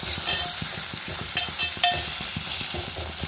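Ingredients for a Kadapa-style dried fish curry are stir-fried in a pan, a continuous close sizzle broken by scraping and stirring clinks, with no voices.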